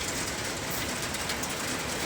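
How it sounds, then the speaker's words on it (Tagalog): Heavy storm rain pours steadily and loudly on a storage building, a dense unbroken hiss filling the space with no voices over it. "Ay, lakas ng ulan."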